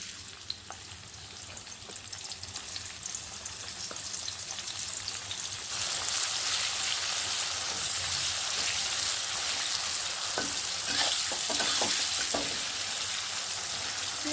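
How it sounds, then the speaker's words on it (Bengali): Chopped onions fry in fish-frying oil with a steady, loud hiss, which surges brighter midway as stirring adds scattered scrapes and spatters, with no talking. "এটার মধ্যে দিয়ে দেবো পেঁয়াজ কুচি"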